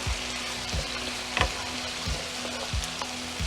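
Diced potatoes, about four of them, fry and sizzle steadily in a pot for an arugula soup, with a few soft thumps from stirring spaced through the clip, close and even, no voices.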